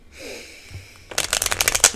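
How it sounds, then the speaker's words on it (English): A quiet rustle, then a deck of cards riffled in a rapid burst of crisp flutters, close up. "I'm going to shuffle one more time."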